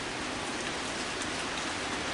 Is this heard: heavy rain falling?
yes